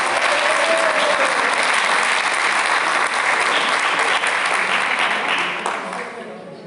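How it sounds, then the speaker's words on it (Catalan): An audience breaks into sustained, full applause, a thick wash of clapping that holds steady and then thins out near the end, with a voice faintly under it. "Així que un aplaudiment,"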